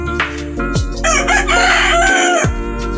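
A Tornado Hatch gamefowl rooster crows once, loud and close, a full drawn-out cock-a-doodle-doo ringing over a steady low background hum, with no talking.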